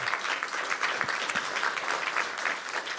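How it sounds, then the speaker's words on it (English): A conference audience claps steadily for a remote speaker at a tech summit, a dense, continuous wash of applause lasting throughout without any talking. "Have a round of applause for Martin, please."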